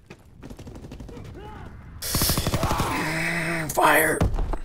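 Call of Duty gunfire comes as rapid automatic bursts, loud and close, with mechanical clatter, in-game voice chatter and game sound effects mixed in.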